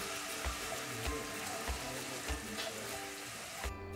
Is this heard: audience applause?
no